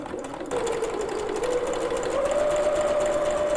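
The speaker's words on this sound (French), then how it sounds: "je fais un point zigzag" A domestic sewing machine runs a zigzag stitch on fabric for a sleeveless top, starting after a short pause and then whirring steadily and close up with a rising hum, with no talking.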